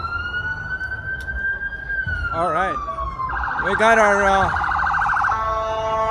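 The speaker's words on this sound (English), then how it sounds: "everybody knows the ambulance." A wailing ambulance siren sweeps through a crowded city street on New Year's Eve on Yonge Street near Dundas Square in Toronto, rising and falling over steady crowd noise, with someone talking briefly.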